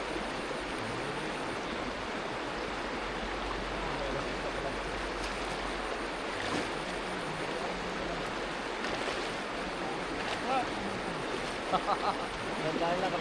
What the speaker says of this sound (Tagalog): ilog na to.